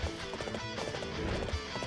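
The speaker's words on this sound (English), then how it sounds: "Let's get a horse." Horse galloping in the video game Dynasty Warriors 8, fast rhythmic hoofbeats under a dense mix of game music and battle noise, fairly quiet.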